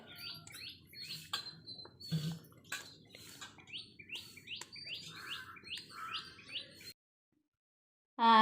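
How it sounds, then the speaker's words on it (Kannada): Several birds calling in a village garden, a koel among them with crows, a run of repeated chirping calls close by over a low steady background hum, ending in silence with a brief loud burst. "ಕೋಗಿಲೆ ಕೂಗ್ತಾ ಇರುತ್ತೆ ಅದ್ರ ಜೊತೆ ಕಾಗೆನೂ ಹರಿಸ್ತಾ ಇರುತ್ತೆ"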